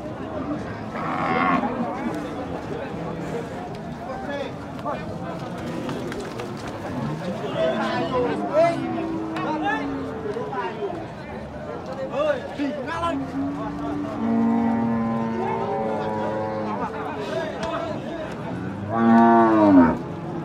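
A large bull, a Limousin-type beef animal at a cattle sale, moos repeatedly in long, loud, wavering calls, with other cattle lowing nearby and someone talking throughout.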